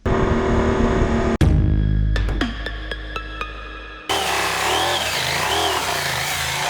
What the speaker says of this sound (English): We ride these bikes to the limit.